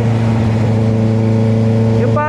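A Honda CB650R motorcycle with an aftermarket exhaust holds a loud, steady, throaty drone close by, then its pitch climbs sharply in a quick rev just before the end.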